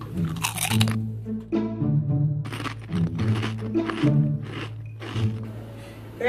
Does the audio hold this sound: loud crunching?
yes